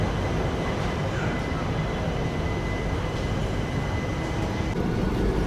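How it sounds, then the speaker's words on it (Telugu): An express train running from Vasco-da-Gama to Tirupati pulls away from Bellary Junction, giving a steady, loud, broadband rumble of wheels and carriages that holds unbroken throughout, with no voices. "మనమైతే బళ్ళారి జంక్షన్ నుంచి అయితే బయలుదేరిపోయినాము."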